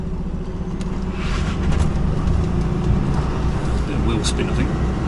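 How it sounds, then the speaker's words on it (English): Car driving up onto a trailer with a bit of wheel spin, steady engine drone under chatter and scraping, plus sharp tire squeals and bursts of high hiss near the end. "A bit of wheel spin, I think."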